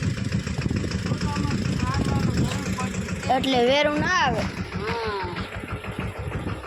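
A tractor engine running in a village farmyard, a steady idling drone that continues beneath nearby talking voices.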